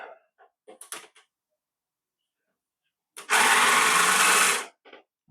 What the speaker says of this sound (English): cheap rechargeable screwdriver I bought on AliExpress